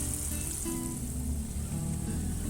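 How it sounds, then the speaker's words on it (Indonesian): Green bean cakes fry in oil over medium heat, giving a steady, dense sizzle with faint crackles and occasional soft stirring, close by and continuous. "Ini kita goreng menggunakan api sedang."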